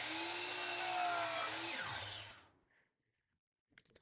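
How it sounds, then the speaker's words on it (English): A power miter saw, set to a 33.9 bevel and 31.6 miter, cuts through crown molding in one loud, steady pass of about two seconds, then winds down to silence before a few faint clicks. "So to cut the matching side to the first one, we're just going to set the saw up in an exact opposite."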